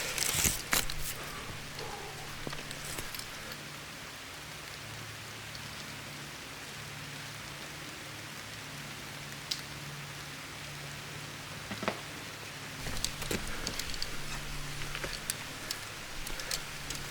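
Steady rain falls on Cecil Cove Trail, a soft even hiss throughout, with a few louder taps and patters near the start and toward the end.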